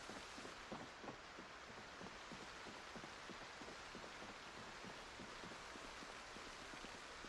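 Rain falling steadily in a zombie survival game, a dense even hiss with scattered soft drop taps throughout, alone and with no voices.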